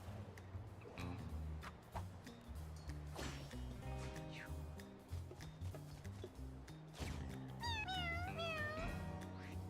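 Cartoonish cat meows from the video game Mewgenics, several distinct mewing calls over a busy bed of game music, with a higher, bendy cluster of meows near the end.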